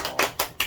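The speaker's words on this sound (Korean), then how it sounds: "잘했어요. 박수." Three quick hand claps, evenly spaced and close, sharp and bright with nothing else around them.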